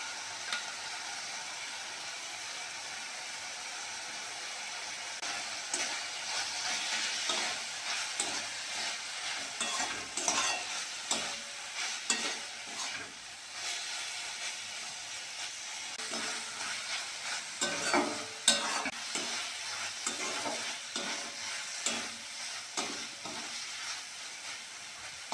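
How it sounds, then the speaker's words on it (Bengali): Water lily (shapla) flowers fry in a pan over a clay stove, cooked with salt, turmeric and mustard paste, with a continuous close sizzle and repeated scraping stirs throughout, no voices. "সর্ষে বাটা দিয়ে শাপলা ভাজা খেতে দারুণ লাগে"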